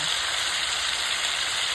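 Minced pork hitting a hot pan with fried garlic sizzles in a steady, loud, bright frying hiss that holds without a break.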